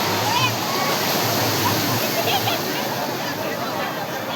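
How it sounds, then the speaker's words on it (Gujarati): Crowds bathe in the sea at Madhavpur beach, heard as a dense, continuous wash of surf and splashing with a broad roar of distant voices mixed in. "અહીંયા કેટલી પબ્લિક નાહી રહી છે માધવપુરના દરિયે"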